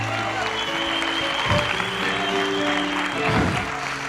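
A church congregation claps steadily throughout a worship service, the dense applause running under sustained musical tones, with swells of louder clapping partway through.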